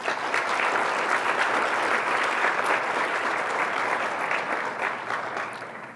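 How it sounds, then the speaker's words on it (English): Conference audience applauds its sponsors with a sustained, full wash of clapping from many hands, steady and fairly loud for several seconds before tapering off near the end. "Let's give them a round of applause to all our sponsors."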